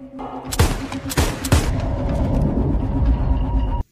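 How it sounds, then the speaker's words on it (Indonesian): Three sharp gunshots crack in quick succession near the start, followed by a lingering low rumble and noisy background. "John dapat menghindari tembakan Ian dengan kekuatannya"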